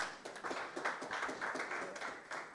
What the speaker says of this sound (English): Let's give Yusuf another round of applause